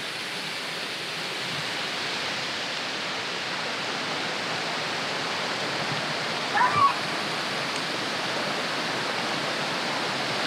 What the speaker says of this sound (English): look at that waterfall over there. That water is definitely falling.